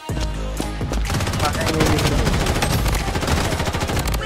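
Rapid automatic gunfire in the video game BloodStrike, dense bursts of shots running continuously and loudly through the whole stretch, with a faint voice underneath.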